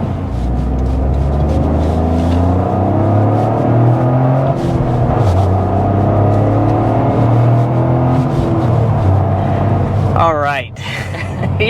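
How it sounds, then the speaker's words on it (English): Toyota GR Corolla (2024, Core) turbocharged engine pulling under throttle from inside the car, a loud, close, continuous drone with rising harmonics, with a muffled voice mixed in and a brief whirring sweep near the end. "if you kind of goose the throttle like that, you can really hear the turbo"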